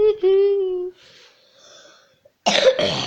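A feverish gamer coughs hard at close range, a sharp burst of two rough coughs near the end after a stretch of sung or droning vocal sounds and quiet breathing.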